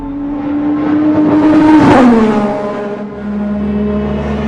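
Ayrton Senna's McLaren MP4/4 Formula 1 car engine revving, a loud, close whine that rises sharply to a peak and falls away, then settles into a steadier drone afterwards, with no voices.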